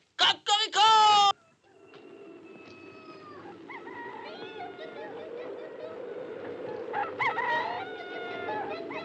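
A rooster crows, preceded by a loud human imitation of the crow, then fainter crowing and clucking in a rural medieval setting over steady background noise.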